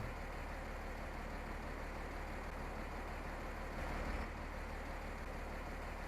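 Tractor engine in Farming Simulator 19 idling steadily at low volume, a continuous low rumble with a slight swell near the end.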